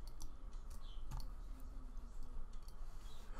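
Computer keyboard keys are pressed while working in 3D modeling software: several faint, sparse clicks over a low steady room hum, with no talking.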